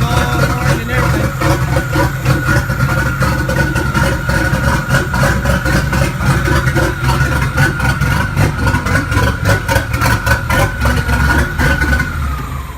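A Nissan L28ET turbocharged inline-six, just after its timing was set, runs loud and close at a steady, slightly rough idle with a rhythmic pulsing exhaust. A faint whine holds throughout, and the engine drops off briefly at the end.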